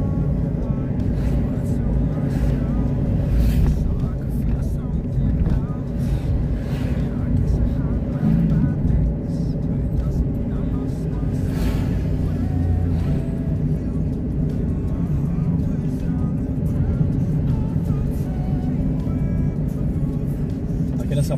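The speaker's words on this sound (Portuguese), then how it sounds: "É uma cidade de um movimento bem intenso aí, de fluxo de carros aí." Car traffic rolls along the city avenues of Itajaí, a loud continuous engine drone and road rumble with passing vehicles swelling and fading, under someone talking.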